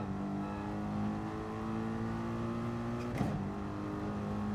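A race car engine in the GT Sport video game holds a steady, droning note throughout, with a brief sharp burst near the end, heard alone with no talking.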